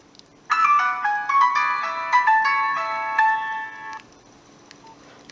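A Nokia 5000 mobile phone plays a ringtone preview from its settings menu: a bright polyphonic melody of quick stepped notes, loud and alone, lasting about three and a half seconds before stopping.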